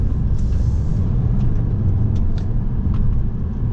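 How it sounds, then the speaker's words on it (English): Road noise inside a 2020 Volvo V60 T6 Momentum on back roads, a steady, loud low rumble of tires on pavement with faint ticks above it, continuous throughout. "Road noise, I'm on the back roads right now, is nice, it's perfect."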